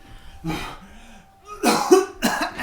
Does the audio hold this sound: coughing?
yes